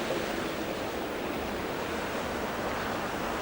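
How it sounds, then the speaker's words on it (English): Water rushes over a weir sluice on a river weir pool, a dense and constant roar of churning flow that stays loud and steady throughout, with no pauses. "Water's actually over the sluice here. That's really bombing through there as well."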